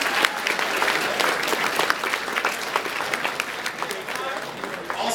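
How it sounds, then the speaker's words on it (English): At a 2012 Super Tuesday rally in North Dakota, a crowd gives a round of applause for the state Republican chairman Stan Stein during a candidate's speech. The clapping is dense and sustained and fades slightly toward the end. "Let's give Stan a round of applause."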